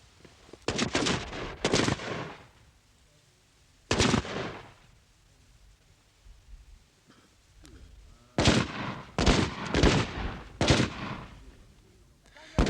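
Soldiers at army training in Zimbabwe fire guns in loud bursts of rapid shots, clustered at the start, once near the middle and in a dense run toward the end, with quieter gaps between.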